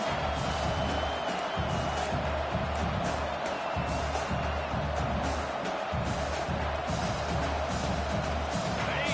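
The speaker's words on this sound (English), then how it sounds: "Man, this crowd really affecting the football game." A packed stadium crowd roars continuously in the NCAA 25 college football video game, a loud, dense, unbroken wash of noise with faint cheers rising.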